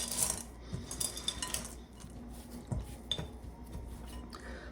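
Chocolate chip cookie dough made with Cheerios cereal being stirred in a bowl, a steady soft scraping and rubbing with light clinks of utensil against the dish, fairly quiet and close.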